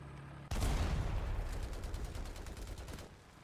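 Gunfire in War Thunder, with a sudden loud shot followed by a rapid burst of repeated firing that rings out and gradually fades over a few seconds.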